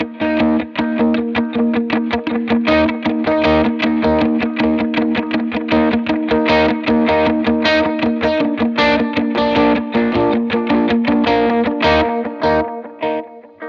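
Distorted electric guitar on the bridge pickup, played through a dotted eighth-note delay with a little reverb, picks a steady rhythmic worship-song part, loud and continuous with repeating echoes, no voice.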